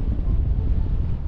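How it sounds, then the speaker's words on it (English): Strong wind buffets the microphone beside a lake during fly fishing, a close, continuous low rumble that keeps going through the whole short stretch with no clear voice. "Just that strong wind"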